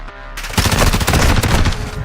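Rapid bursts of gunfire from a gun in a Modern Warfare match, loud and close, rattling almost continuously through most of the moment with no talking.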